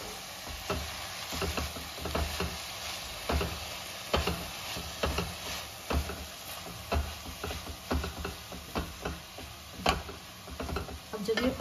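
Red amaranth sabji is stirred in a pan, with a soft continuous sizzle under repeated scraping and clinking strokes of the spoon against the pan, fairly quiet and close.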